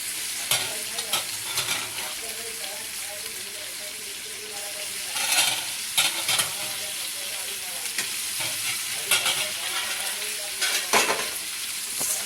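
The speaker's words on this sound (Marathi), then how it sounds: "आणि ते असं परतून घ्यायचं, मसाल्यामध्ये मिक्स करायचं।" Drumsticks are stirred and sautéed in masala in a pan, with sizzling frying and repeated scraping stir strokes in irregular bursts, close and clear, alone without talk.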